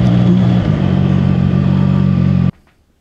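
A CF-Moto 675 SR-R motorcycle engine revs hard and close, holding a loud, steady, buzzing drone for about two and a half seconds before cutting off abruptly into near silence.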